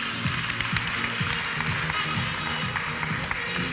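A conference audience applauds to welcome a speaker onto the stage, a steady wash of clapping from a room full of people with a voice faintly under it.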